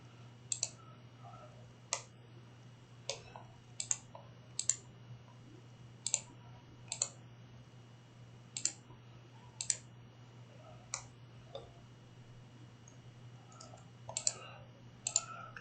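Sharp, isolated mouse clicks at an uneven pace, close and fairly quiet, over a steady low hum while someone works in Blender on a computer.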